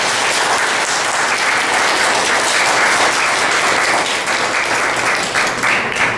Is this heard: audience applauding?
yes